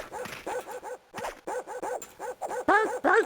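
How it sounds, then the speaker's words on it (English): Dogs in a video game bark again and again, short sharp yaps in quick irregular bursts, some of them whining. The barking is close and continuous and stands alone, with no voices over it. "There's so much barking, my gosh."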